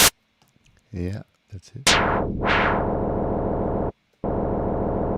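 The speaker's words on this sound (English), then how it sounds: "And find some white noise, which is always fun." Synthesized white noise from a synth in Ableton Live, a loud broadband hiss with filter sweeps that cuts off briefly and then resumes, after a short spoken remark.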